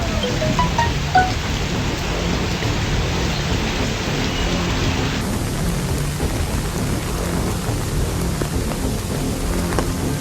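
Heavy rain pours steadily during floods in Kodagu, Karnataka, a dense, even hiss of downpour that stays loud and unbroken from start to finish.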